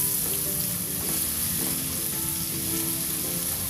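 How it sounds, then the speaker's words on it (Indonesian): Ground spice paste fries and gets stirred together with onions in a pan for tempeh soup. A dense, steady sizzle hisses throughout, with faint stirring scrapes underneath, close and continuous, with no talking. "Terus diaduk-aduk sampai menyatu sama bawangnya, sampai bumbunya mateng dan harum ya."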